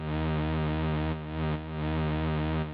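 A distorted, fuzzy synth bass plays a steady sustained tone with its high end filtered off, giving a dark, muffled buzz that dips briefly in level midway before holding on.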